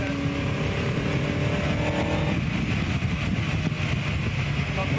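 A 1959 Cooper Climax racing car drives on track with a loud, continuous engine roar and rumble, the pitch shifting partway through as the car is worked hard.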